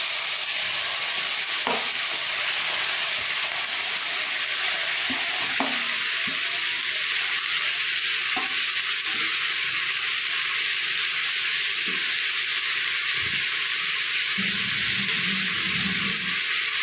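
Carrot and spinach fry sizzles steadily in a pan while a spoon stirs it, with occasional scraping knocks against the pan over a constant hiss.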